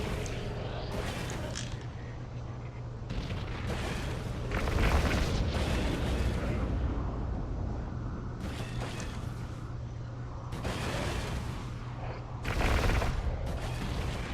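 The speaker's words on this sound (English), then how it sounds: "I'm getting hit with something there. Yep, they got a couple missiles." Missile impacts striking a spaceship in the space game EVE Online, rumbling booms and bursts layered over a steady engine drone, loud and continuous with surging peaks.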